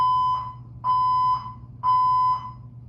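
A fire alarm going off, sounding as three loud, steady electronic tones repeating about once a second, each half-second tone followed by a short gap, close and alone.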